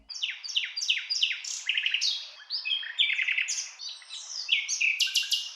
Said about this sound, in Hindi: और फिर रानो चिड़िया उस बेल के लिए संगीत गाती है।